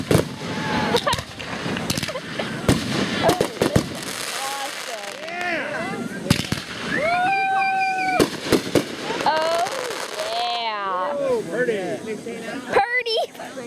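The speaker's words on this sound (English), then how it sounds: "There's so many fireworks to see" Fireworks burst repeatedly in a display, sharp cracks and booms mixed with whistling, rising and falling screeches and crackling, while people nearby talk and cheer excitedly.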